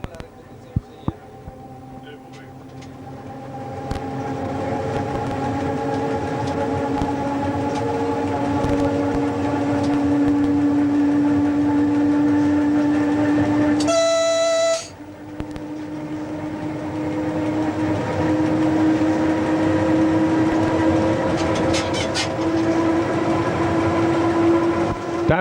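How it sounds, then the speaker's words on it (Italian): Train accelerating on the Udine-Tarvisio line, heard from inside the locomotive cab, with a rising engine hum and a steady electric whine. A brief loud tone sounds near the middle. The locomotive is fault-limited to 135 km/h. "Il treno prende velocità."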